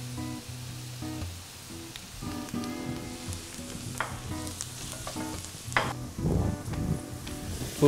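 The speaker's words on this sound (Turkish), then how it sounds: "Soğanın rengi hafif dönünce kıymayı ekleyin." Minced meat fries with onions in a pan, a close sizzle with scraping stirs and clinks of a utensil, rising to louder bursts of crackle toward the end.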